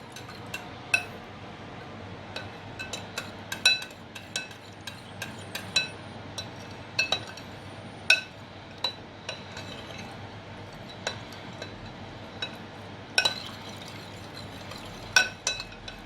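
Fat cake batter mixed in a bowl by hand: a run of sharp clinks and scrapes of a utensil against the bowl at an irregular rhythm, close and fairly quiet over a soft background, with no talking.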